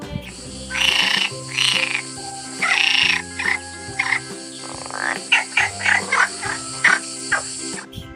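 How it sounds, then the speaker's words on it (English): Repeated frog croaks in short bursts over a light musical backing, fairly loud and close, with no talking. "F for frog."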